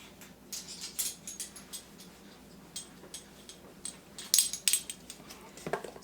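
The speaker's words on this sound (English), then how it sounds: "Let me get my measuring spoons." Metal measuring spoons clinking and rattling as they are fetched in a home kitchen, a scattered series of light close taps and jingles, briefly louder near the end.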